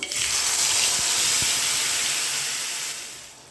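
Ground garlic chutney mixture, thinned with water, is poured into a hot pan of mustard seed and curry leaf tempering and erupts in a loud, close hiss and sizzle that slowly fades, with no talk.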